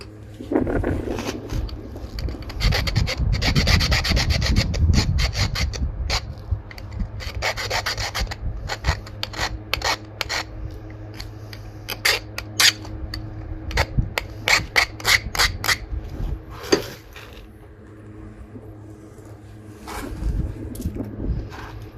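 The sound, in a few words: sanding and filing recycled glass point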